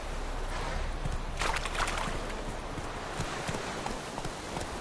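Roach, a horse in a video game, gallops with quick, rhythmic clip-clopping hooves over a steady background rumble, close and fairly loud throughout.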